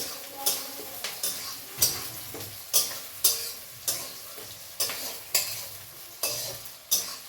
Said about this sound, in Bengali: পেঁয়াজটাকে আমি খুন্তি দিয়ে ভালো করে নাড়াচাড়া করে এবার একটুখানি রাখবো সেদ্ধ হওয়ার জন্য পেঁয়াজটাকে